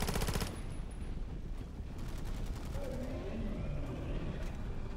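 In a zombie video game, turrets fire rapid bursts of gunfire that stay steady and moderately loud. Faint background game noise runs underneath, with no clear talking.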